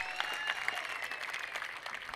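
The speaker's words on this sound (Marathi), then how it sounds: "जोरदार टाळ्या द्या" Crowd claps loudly at a local Satara Premier League cricket match, a dense, steady burst of many hands applauding throughout with a hint of cheering voices.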